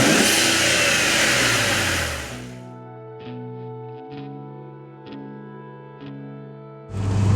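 A 2009 BMW 135i with the N54 engine, E82 chassis and short shift kit revs hard with a rising, loud engine note, then drops to a quieter steady hum before a renewed burst of power at the end.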